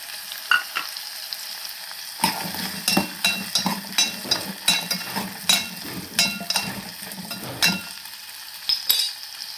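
Small onions (shallots), garlic and ginger fry for a chutney in a hot pan, a constant close sizzle broken by rhythmic scraping stirs of a spoon against metal, with no voices.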